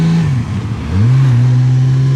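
A 1979 Kawasaki KZ1300 six-cylinder motorcycle engine revs up close, briefly dipping before climbing to a loud, steady, throaty drone.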